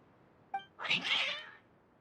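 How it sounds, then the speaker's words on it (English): Cats in the video game Genshin Impact meow in a single drawn-out, agitated cry, clear and close, preceded by a brief click. "Your cats seem pretty worked up."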